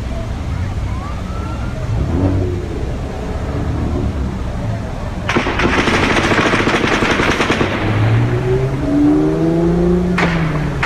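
Rapid automatic gunfire from the Las Vegas shooting rattles in a sustained distant burst, heard over steady background noise with sirens wailing and a person talking nearby.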